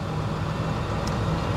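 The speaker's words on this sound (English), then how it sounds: "The engine is now revving up." A diesel engine runs at raised idle during a DPF regeneration started with a Launch X431 HD III scan tool, giving a steady low rumble close by with no talk.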